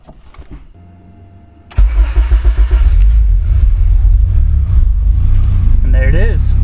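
A 1992–95 Honda Civic with a B16 engine and turbo starts through a plug-and-play push-button unit: a short crank leads into a loud, close idle that holds steady, with a voice talking over it.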